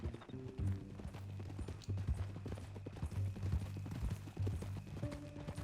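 Horse hooves clip-clop steadily in the Red Dead Redemption 2 video game, a close, continuous rhythmic trot on a ranch trail, carrying along under low game music.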